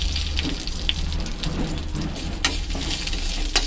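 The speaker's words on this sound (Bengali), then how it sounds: "তারপরে আমি যে শুকনো লঙ্কাটা রেখেছিলাম সেই লঙ্কাটা ভেজে নেব।" Dried red chili fries in mustard oil in a home kitchen with a soft, steady sizzle and crackle. Occasional sharp clinks and stirring sounds break through, and no one speaks.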